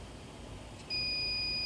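A fire alarm panel in trouble mode for a battery charger failure sounds a steady, piercing electronic tone that begins partway through and holds, over a faint background hiss.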